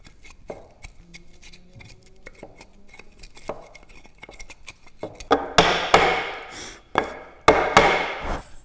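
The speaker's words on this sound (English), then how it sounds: "So maybe just get the chisel in there, sort of stab it a few times," A chisel stabs into the waste of a hand-cut wooden mortise for a mortise and tenon joint, a series of sharp, close wooden knocks and chops that start light and irregular, then grow louder and sharper toward the end.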